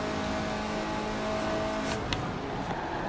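A KTM X-Bow GT4 race car in the racing game Forza Horizon 4 drones steadily under power at close range, with a couple of brief bursts near the end and no talking.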